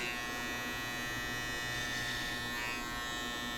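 An electric hair clipper cutting a flattop haircut, giving a steady, close mechanical buzz that holds unbroken throughout.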